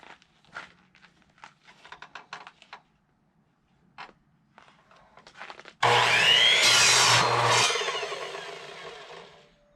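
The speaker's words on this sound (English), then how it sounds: "cut our 2x6 to the required length for our rods" A handsaw cuts through a wooden 2x6 board in a burst of rasping back-and-forth strokes, loud and close for a couple of seconds after some quieter handling and tapping noises.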